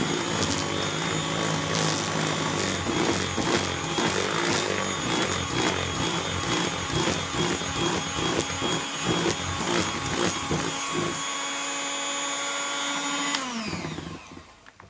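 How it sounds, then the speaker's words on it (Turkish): Electric hand mixer whisking carrot cake batter with flour, running loudly and steadily with a whirring motor tone for about thirteen seconds, then stopping abruptly near the end. "Ve yine mikserimizde çırpıyoruz."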